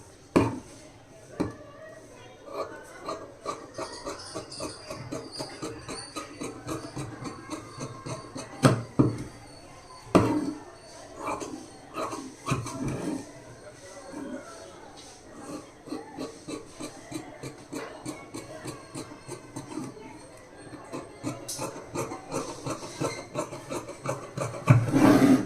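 Blouse fabric is cut along marked lines, giving a long run of close, rhythmic rasping and snipping strokes. The strokes come in bursts with brief pauses between them.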